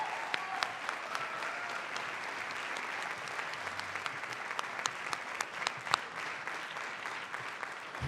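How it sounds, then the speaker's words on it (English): Applause follows a high school jazz ensemble's performance: a sustained, fairly distant wash of many hands clapping, with sharper individual claps popping out now and then. "Appreciate your warm applause."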